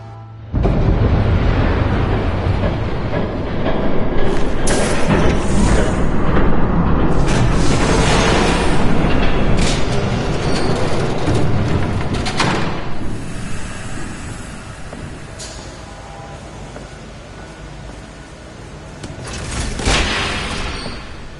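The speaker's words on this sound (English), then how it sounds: "There's a train coming. Take cover." A train in a Batman video game passes close by as a loud, continuous rumbling roar with heavy clattering bursts that swell mid-way, fade, then surge again near the end.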